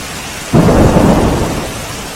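Heavy thunder and torrential rain in Umarpada, Surat, as a deep rumbling thunderclap breaks in suddenly over steady downpour and slowly fades under continuing rain.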